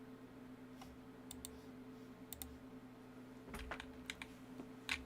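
Quick clicky keystrokes on a computer keyboard in short scattered bursts, faint and close over a low steady electrical hum, no talking.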